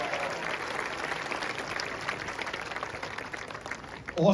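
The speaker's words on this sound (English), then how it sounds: "let's give a big round of applause for Xavier Valdez" Steady applause from a crowd at a soccer trophy ceremony for the US Open Cup champions, dense and continuous throughout, swelling slightly louder right at the end.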